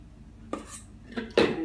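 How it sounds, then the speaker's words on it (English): A utensil scrapes cake mixture from a mixing bowl for almond bread, producing a few quick close clinks and scrapes, the last the loudest, against a quiet background. "scraping out as much of the mixture as you can from the bowl so as not to waste any"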